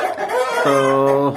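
Plymouth Rock chicken on a poultry farm gives a short, close, drawn-out clucking call, with a brief spoken word heard alongside.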